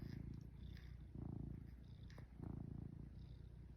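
A cat purrs steadily and close up, the low rumbling rising and falling in slow breathing cycles with no other sounds.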